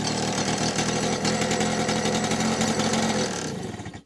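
A small engine, freshly started on the choke and not seized, runs at a steady fast idle, loud and close, with a brisk rattling rhythm that dips as the choke is released near the end.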